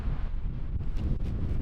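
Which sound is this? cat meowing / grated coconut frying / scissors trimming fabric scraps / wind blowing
wind blowing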